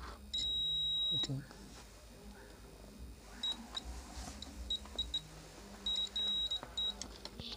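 Electronic beeping from a faulty Bluetooth speaker with FM, MP3, USB and SD card player: a long beep, then several short bursts of high, piercing tones, with a brief spoken word and background clatter.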